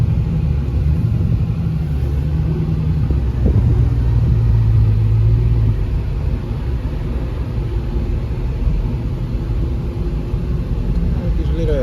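Ford Mustang at a busy city car meet, a steady deep engine rumble running throughout with a brief rising rev early on, loud and close, while people talk nearby.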